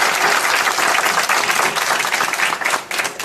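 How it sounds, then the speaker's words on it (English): Loud, dense applause from an audience honoring the Naval Academy Prep School class of 1967 at a reunion event, steady clapping throughout that tapers slightly near the end. "we'll everybody give these guys a round of applause"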